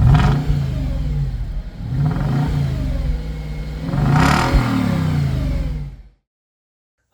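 An Audi V8 Quattro estate car engine revs in repeated swells, climbing and dropping several times at close range before cutting off into silence.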